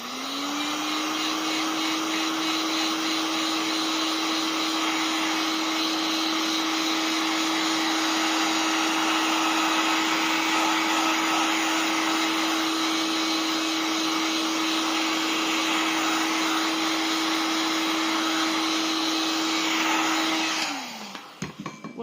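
A hair dryer blows steadily on clay slip for a star-shaped Christmas tree decoration, a loud continuous whirring hum that holds for about twenty seconds before switching off and winding down at the end.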